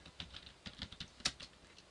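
Light, quick key presses on a computer keyboard during accounting data entry, a soft irregular patter of clicks with one sharper tap, close but faint.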